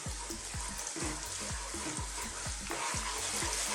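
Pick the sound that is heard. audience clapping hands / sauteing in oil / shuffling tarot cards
sauteing in oil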